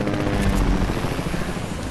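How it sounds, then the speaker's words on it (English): A Fortnite helicopter drones with a close, steady rotor chop, loud and continuous with no talk over it. "Let's head to the chopper. Chopper. Head to the helicopter."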